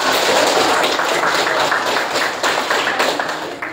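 A classroom audience applauds a student group, a dense, steady patter of many hands clapping at once, loud and close, holding for several seconds before easing slightly, with no talk.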